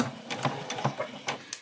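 A sewing machine stitches straight across an apron in short, uneven pulses, quiet and close, with a few rapid needle strokes and no voices.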